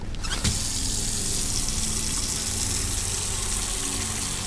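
Water gushes steadily into a container in the video game Autopsy Simulator, a loud continuous pouring rush that begins after a brief moment and holds unbroken.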